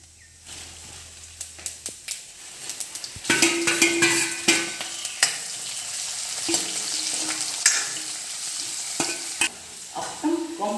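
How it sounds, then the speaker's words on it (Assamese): Onion fries in a small amount of oil in a pan, a few sharp taps and scrapes first, then a continuous close sizzle with intermittent stirring clicks. "এনেকৈ তেলটো কম পৰিমাণে দিবি আৰু পিঁয়াজটো দি দিবি"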